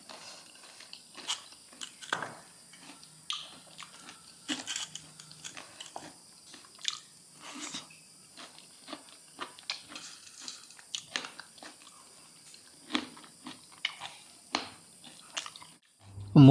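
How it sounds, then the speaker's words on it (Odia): Someone eats fried catla fish with egg dalma at home, close, wet chewing and crunching bites repeating irregularly for many seconds in a quiet room, ending in a sudden loud knock. "ମୁଁ ଖାଇ ଚାଲିଲି"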